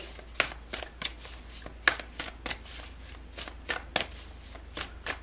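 Tarot cards riffle and snap through a series of quick shuffles, each burst crisp and close, repeating at an uneven rhythm over a quiet background.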